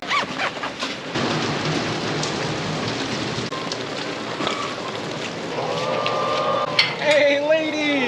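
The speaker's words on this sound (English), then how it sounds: "It's raining quite a bit out here." Steady rain from a heavy storm on a farm hisses throughout, with a few louder patters and drips; near the end, faint voices and animal-like calls rise over the downpour.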